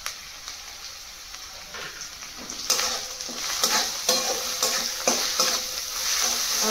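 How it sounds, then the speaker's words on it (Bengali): Turmeric and chili powder being stirred in a hot pan for a soybean dish: steady close frying sizzle with repeated scraping strokes of the spoon that grow louder and more frequent toward the end. "আর মশলাগুলো এবার ভালোভাবে মিশিয়ে নিতে হবে।"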